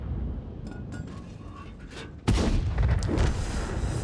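A tank cannon in World of Tanks fires one sharp, loud blast followed by a rumbling echo, set against a steady layer of in-game battle noise and engine drone.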